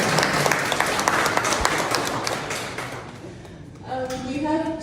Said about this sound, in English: Can we clap for him, please?